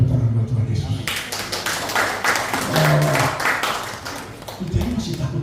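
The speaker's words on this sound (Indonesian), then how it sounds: "Tepuk tangan buat Tuhan Yesus." A church congregation claps for Jesus during a worship service, a dense patter of applause rising under a preacher's voice for several seconds, then fading as the speaking continues.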